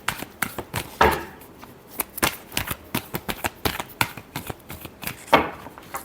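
Tarot cards are shuffled by hand in a quick run of crisp, irregular riffles and slaps, close and clear with no talking.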